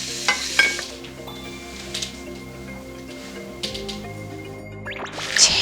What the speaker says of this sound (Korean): 지글지글.